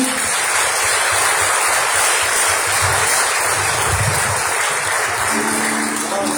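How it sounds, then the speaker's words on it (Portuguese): A church congregation applauds during an evening worship service, a dense, loud wash of clapping that holds steady from start to finish, with a voice faintly present underneath. "Dê um aplauso ao Senhor."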